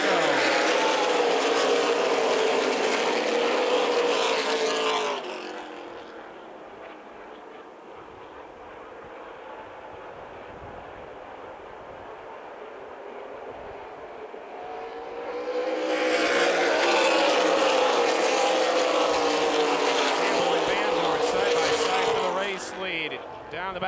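ARCA/CRA Super Series stock cars roar around Toledo Speedway on a restart, a loud pack of engines at first, fading to a distant drone, then swelling loud again as they pass, under continuous race commentary.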